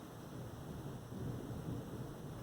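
A low, continuous rumble of distant thunder from a storm moving away rolls steadily throughout, broad and muffled with no sharp crack, under a faint hiss of rain.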